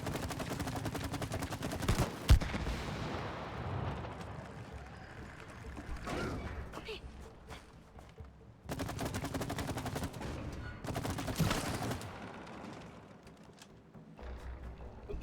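Rapid bursts of video game gunfire crackle through the scene, dense volleys broken by short pauses, with players talking over the shooting.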